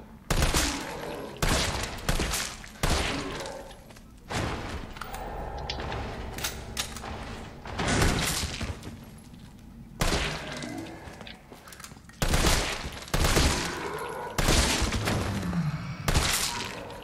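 Resident Evil 3 Remake gunfire booms in repeated heavy shots spaced a second or two apart, each with a sharp crack and echoing tail, loud and close amid game ambience.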